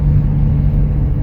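Steady, loud low engine rumble and road drone from inside a car cruising along a two-lane mountain highway, continuous with no talking.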